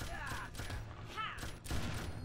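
Gunfire in the video game A Farewell to Dragons, several quiet bursts of rapid shots separated by short gaps, faint and distant in the game mix.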